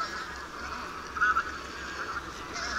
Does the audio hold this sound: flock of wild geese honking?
yes